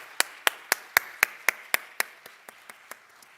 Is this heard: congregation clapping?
yes